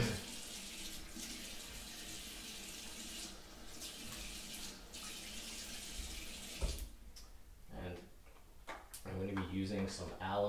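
Cold water running steadily from a bathroom tap for a rinse after a shave, a constant rushing flow that breaks into splashes and handling noises near the end.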